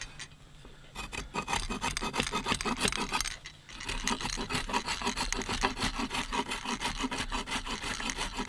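Fine wood shavings being rasped off by the serrated edge of a survival shovel, a steady rapid scraping rhythm that pauses briefly midway, close and fairly loud with no talking.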